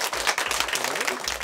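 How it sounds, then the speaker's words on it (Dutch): Audience applause at a prize ceremony for a portrait painting contest, a steady broadband wash of clapping with a voice or two calling out over it. "Ik zeg applaus."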